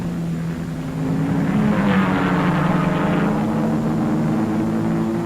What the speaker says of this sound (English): Here's Hansgen in number 7 Jaguar, passing Duncan in number 2 Corvette.